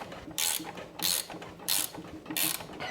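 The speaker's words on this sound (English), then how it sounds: "Make sure your wrench isn't caught in there. And then go ahead and crank it down." Ratchet wrench cranking down the lower ball joint bolt on a Honda TRX400FA Rancher ATV, four close, crisp clicking ratchet strokes in an even rhythm.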